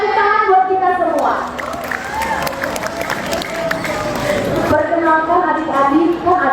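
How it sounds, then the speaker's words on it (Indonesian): A crowd of children claps and cheers at a public speaking event for kids, with lively young voices and scattered hand claps running steadily throughout. "Tepuk tangan buat kita semua."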